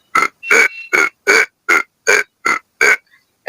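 A man imitates an umbrella frog's call with his own voice: about nine short, loud croaks in a steady, evenly spaced rhythm, close to the listener.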